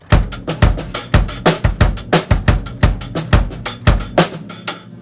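A punchy drum groove with kick, snare and cymbals, the bass drum hitting twice in quick succession within a steady repeating pattern.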